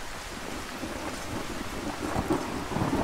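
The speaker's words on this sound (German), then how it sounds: "hier regnet es jetzt ein bisschen." Rain falls with rolling thunder in Skyrim, a continuous hiss of rain under low rumbles that grow slightly louder toward the end.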